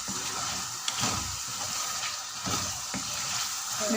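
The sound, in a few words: boiled chickpeas roasting with spices on medium-high flame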